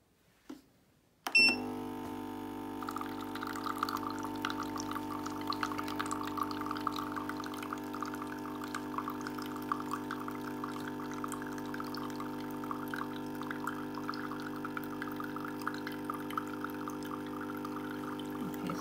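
Water pouring steadily into a baby bottle being filled, a continuous even trickling stream after a brief click at the start, close and fairly quiet, with no talking.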